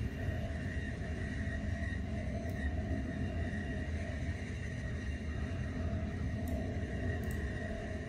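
A moving train in The Final Station video game, a steady low rumble and rattling wheel noise rolling on continuously and evenly, with a couple of faint metallic ticks and no talking.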